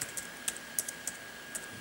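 Someone types on a computer keyboard: a sparse handful of quiet, crisp key clicks at irregular intervals over a faint background hum.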